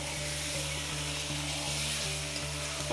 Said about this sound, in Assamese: এখিনি আগতে তেলত দিলে তাৰ পিছত মাংসখিনি দি কিনি মজাই লৈ আছে